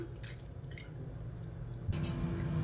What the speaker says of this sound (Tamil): இப்போ புளி கரைச்சி எடுத்துட்டேன்